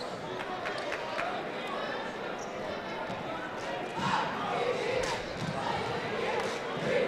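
Crowd at a Huron high school boys basketball game against Ypsilanti rumbles and swells in a gym, a steady roar of voices with a louder surge partway through, shoes and a bouncing ball faintly mixed in.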